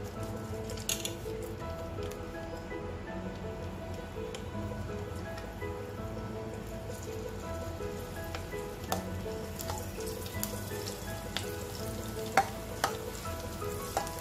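Green chillies dropped into hot oil in a wok for Nashik-style batata vada, a continuous soft sizzling hiss with scattered pops and occasional stirring clicks, no voices.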